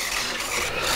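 Control-surface hinge on a Freewing F-35 Lightning II RC jet's right elevator, misaligned and binding, gives a continuous close rubbing scrape that holds steady for the whole second, with no talk.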